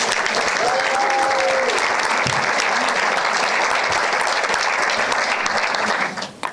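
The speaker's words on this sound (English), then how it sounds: "Give them a warm applause." An audience at a Smart Green Island Makeathon final pitch event applauds a team taking the stage, with loud, dense clapping and a few cheers that hold steady before tapering off near the end.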